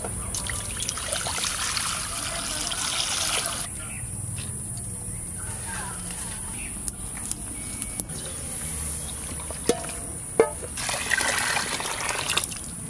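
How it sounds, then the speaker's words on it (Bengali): Water is poured into a cooking pot for a village-style broken-rice dish (khuder bhat), making a steady trickling, gurgling flow with outdoor ambience and faint clicks. "খুদের ভাত চাপাবো, জল দিয়ে দিচ্ছি।"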